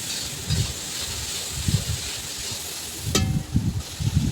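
Tomatoes are stirred in a pot while cooking a village chicken curry, with a soft steady sizzle and hiss broken by periodic scraping strokes and a sharp clink midway.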